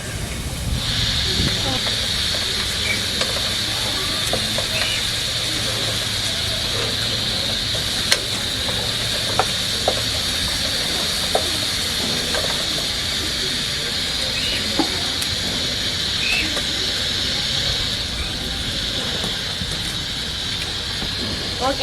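Ingredients for chicken biryani sautéing in a pan: a steady sizzling hiss throughout, with occasional faint clinks and soft voices in the background.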